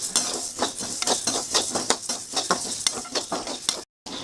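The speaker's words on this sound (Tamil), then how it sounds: "தனித்தனியாகவே போட்டு வறுத்துக்கோங்க." Ingredients dry roasting in a pan are stirred with a utensil, producing a quick, regular series of scraping and rattling strokes that stay close and fairly loud, ending with a brief gap.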